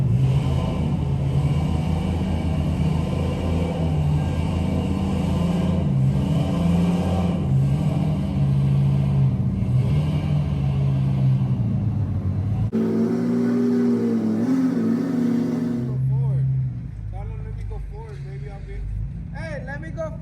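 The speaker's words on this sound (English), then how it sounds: "with the weight of the excursion, it was making it really difficult for me to get any traction on the sand" A heavy Ford Excursion stuck in soft sand in a wash holds a strained, steady engine drone, then the revs change and fade toward a quieter idle near the end, with people talking over it.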